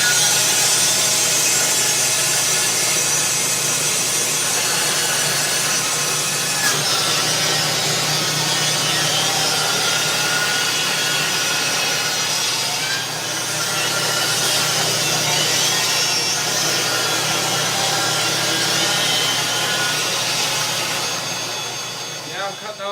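A power saw rips through a piece of spalted wood with a loud, sustained rasping whine that holds steady for a long stretch, with slight shifts in pitch as the blade works through the cut.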